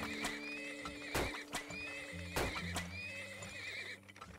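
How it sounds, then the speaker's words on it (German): Horses neigh and whinny repeatedly in the Turmoil video game, several sharp calls over a steady ambient hum, with faint hoof clip-clops in between. "Holen uns noch ein paar Pferdchen."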